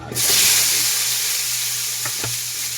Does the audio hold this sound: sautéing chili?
yes